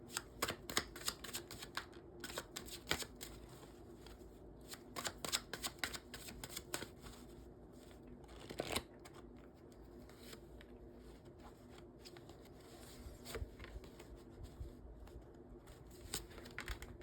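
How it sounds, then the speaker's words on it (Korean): Tarot cards being shuffled and drawn, a run of crisp close riffling and flicking bursts at irregular intervals with quiet pauses between, no talking. "타로 카드 나왔는데요. 카드 더 뽑아보고 얘기해볼까요?"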